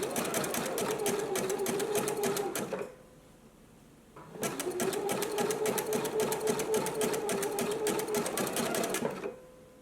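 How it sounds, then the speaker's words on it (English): A sewing machine runs a wide, long zigzag stitch over yarn on a gingham dress sleeve. Two sustained, rapid-rattling runs are split by a brief pause. "I'm just going to do a zigzag stitch over the yarn"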